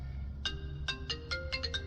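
A phone ringtone chirps in a quick melodic run of short electronic tones, several bright notes in succession over a low room hum, with no one speaking.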